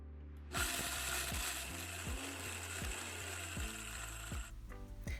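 Peppercorns being ground to a coarse texture for homemade lemon pepper seasoning, giving a steady close mechanical grinding rasp with repeated ratchet-like clicks from the grinder mechanism, running about four seconds without talk.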